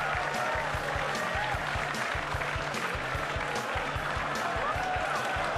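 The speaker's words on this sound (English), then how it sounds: "If you ever want to hear a crowd go wild," A crowd bursts into sustained, dense applause and cheering after a fluked 9-ball at the 2006 WPA World Championship 9-ball pool match; the roar stays loud and steady throughout.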